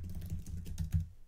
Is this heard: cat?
no